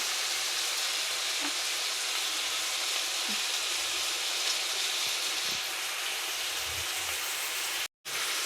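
Onion, gokarakaya (cluster beans) and curry leaves frying in oil for a curry, with a steady, close hiss of sizzling throughout and a brief dropout near the end.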